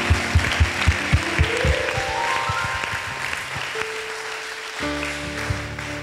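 A church congregation claps rhythmically for Jesus, with a burst of quick claps at the start fading into a sustained organ or keyboard chord and a sung tone.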